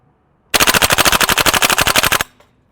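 GHK G5 gas blowback airsoft rifle firing full auto, one rapid burst of about twenty sharp evenly spaced shots lasting under two seconds, loud and close, with silence before and after.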